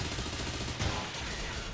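A Bullet Punch attack in the Pokemon Scarlet/Violet video game, heard as dense, rapid bursts of punchy impact and gunfire-like effects over steady game audio, with a brief louder hit near the middle.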